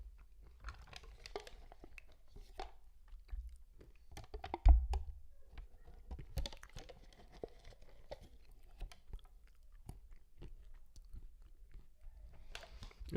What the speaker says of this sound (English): So if you don't like listening to people chew, you might need to mute it.